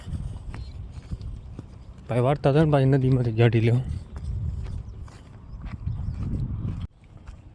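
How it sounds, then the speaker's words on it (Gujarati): A herd of buffaloes breaks loose and runs, their hoofbeats clopping steadily through the clip beneath almost continuous nearby talk, with a loud voiced call partway through. "અત્યારે બધી ભેહું અહીંયા ભાગી નીકળી"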